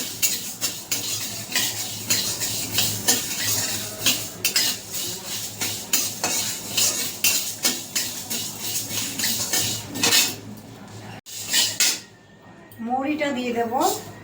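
Whole coriander and fenugreek seeds go into a pan for a kul (jujube) pickle spice mix, heard as steady clinks and scrapes of a utensil against the pan under continuous talking.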